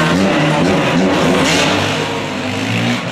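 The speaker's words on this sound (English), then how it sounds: "Loud ass freaking motorcycles." Loud engines rev and roar continuously as motorcycles pass close by, the sound holding steady before easing slightly at the end.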